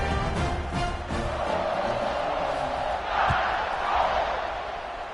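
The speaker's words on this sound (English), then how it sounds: "this crowd is feeling themselves after that last drive" Video game football stadium crowd roars steadily throughout during a kickoff, a continuous loud wash of cheering with swells near the end and no clear talk.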